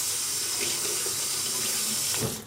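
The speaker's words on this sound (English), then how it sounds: "Oh, of course, turn off the water." Water runs steadily from a kitchen tap into a sink, a continuous splashing rush that stops abruptly at the end.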